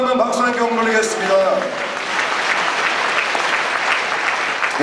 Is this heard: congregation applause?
yes